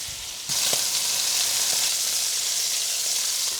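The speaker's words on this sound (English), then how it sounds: "it's important to get a nice brown colour, a nice sear on both sides of the meat, so I don't overcrowd the pan" Beef pieces sear in hot fat in a pan for an old-style stew, a sudden onset of loud, steady bright sizzling that continues evenly with a few faint clicks, no speech.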